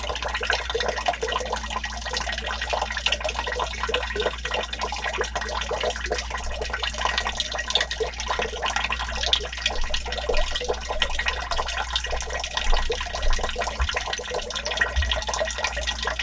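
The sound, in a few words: water running from an old leaky valve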